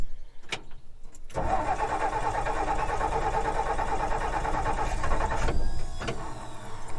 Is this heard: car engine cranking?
yes